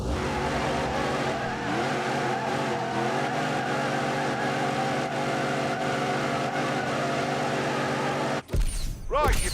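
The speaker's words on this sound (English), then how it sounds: "that was just a celebratory burnout" Rebuilt Demon car doing a celebratory burnout, a loud sustained engine roar mixed with tyre screech, close up, cutting off abruptly near the end into a short burst of different noise, with no talk.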